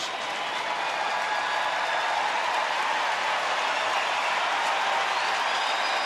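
Baseball stadium crowd in Texas cheering for the Rangers pitcher against the Seattle Mariners, a steady, far-off roar of many voices that holds level throughout.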